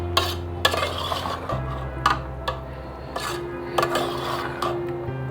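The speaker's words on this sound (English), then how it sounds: "Make sure you stir it properly." A spoon scrapes and clinks against a pot as food is stirred, giving repeated sharp knocks at irregular intervals over a low steady hum, close and fairly loud.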